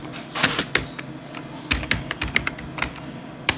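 Fingers type text into Photoshop on a computer keyboard, a close, irregular patter of crisp key clicks arriving in quick bursts with short gaps between them.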